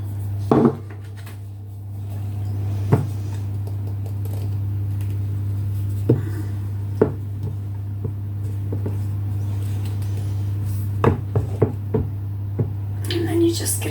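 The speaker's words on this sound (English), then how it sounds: "Get the last of the flour mixed in." Flour being worked into Swedish pepparkakor cookie dough in a bowl, with scattered knocks and clinks of the utensil against the bowl over a steady low hum.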